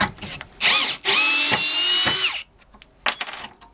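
A power drill fitted with a drill bit whirs in short loud bursts while backing a screw out, with pauses and small metallic clicks between the runs.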